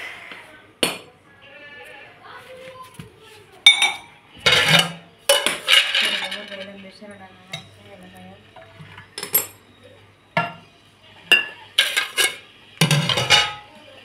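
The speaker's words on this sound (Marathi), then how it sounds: "भांडी घे तेवढी घासून पटकन" Dishes, cups and glasses being scrubbed and rinsed, with repeated clinks and clatters of utensils in bursts of varying loudness, close by, while running water and occasional movement fill the gaps and a few voices are heard briefly.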